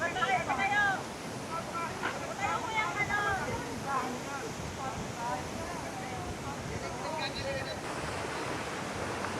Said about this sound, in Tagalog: Napakalakas ng breeze.